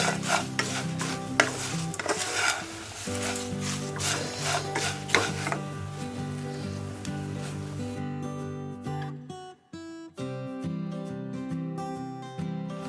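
A spoon stirs and scrapes thin poha chivda in a pan, giving repeated rough rubbing strokes with a gritty texture, heard under steady background music.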